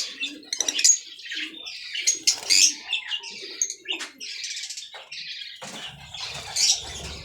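Green and yellow finches in a breeding aviary give scattered bright chirps and tweets with a few wing flutters. The calls come in irregular bursts, moderately close, with no talking.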